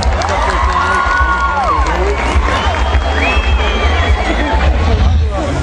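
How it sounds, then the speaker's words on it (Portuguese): A rodeo crowd in the stands at a barrel racing event applauds and cheers for a competitor, a steady loud roar of hubbub with no break, mixed with announcer talk. "Cadê uma salva de palmas à competidora"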